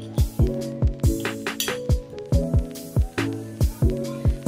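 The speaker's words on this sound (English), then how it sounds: "So I will pour some turmeric in the glass, and after mixing it" A metal spoon clinks repeatedly against a drinking glass while stirring turmeric powder into it, bright ringing taps in a steady rhythm, close and loud, with no talking.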